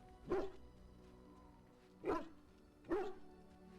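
A dog in the Dragon Age: Origins video game barks three times, spaced and moderately loud, over a low ambient game hum.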